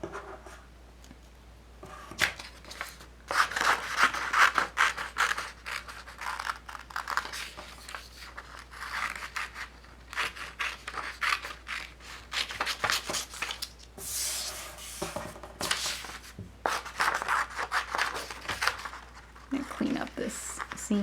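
Scissors snip and slice through fabric, cutting out a plush ponytail pattern piece, a close, irregular series of crisp cutting and rustling bursts with brief pauses in between.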